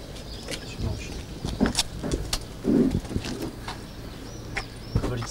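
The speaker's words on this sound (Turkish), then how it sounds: "Bunlar güvercin o." Soft, repeated cooing from a group of pigeons in Mardin, close by and fairly quiet over a low background hum.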